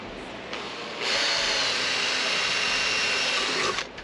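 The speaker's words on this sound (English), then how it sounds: "So I'm just going to drill straight in." A power drill bores a pilot hole into aluminium, a brief startup whir followed by a steady, close, high-pitched grinding drone for a few seconds before spinning down.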